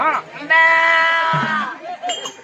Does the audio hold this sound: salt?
no